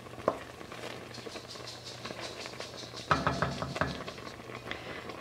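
Apples simmering in a pot for homemade apple butter, a soft steady bubbling and patter with a few louder clinks or stirs near the start and around the middle, close by and without talk.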